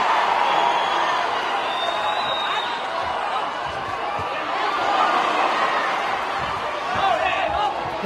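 Arena crowd at a women's professional boxing bout in Costa Rica, a continuous loud roar with swelling hoots and cheers that rise in bursts, heard under a commentator's voice.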